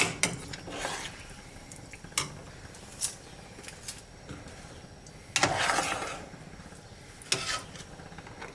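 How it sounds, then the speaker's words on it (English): Beef halim being stirred in a pot gives faint, scattered clinks and scrapes of a spoon against the metal, spaced irregularly in a quiet kitchen. "So now we're going to mix it."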